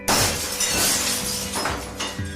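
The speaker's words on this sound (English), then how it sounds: "the remaining glass in the window shattered and exploded outward" Window glass shatters and bursts outward in a loud, sudden crash, followed by a spray of tinkling shards and further smaller smashes over about two seconds.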